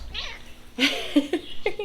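A domestic cat meows close by, a short plaintive call followed by a few more clipped meows in quick succession, fairly clear against a quiet room.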